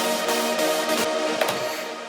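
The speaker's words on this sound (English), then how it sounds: "we have the chords with the LFO effect that are following the exact same automation." Dense sustained synth chords from a hard techno track with an LFO effect giving a wavering, pulsing modulation, bright and full, playing alone without any voice.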